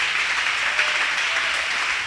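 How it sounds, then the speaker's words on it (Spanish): A church congregation applauding during a service, a thick, continuous wash of many hands clapping together, steady and fairly loud with no talk. "Démosle ese aplauso al Señor y póngase en pie"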